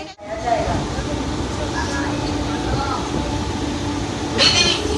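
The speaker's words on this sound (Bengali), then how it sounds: "এখন আমরা হাওড়ার থেকে ট্রেনে উঠলাম ছাড়লো অলরেডি" A local train from Howrah bound for Digha rumbles steadily along the tracks with a constant low roar, voices talking faintly over it in a nearly empty carriage.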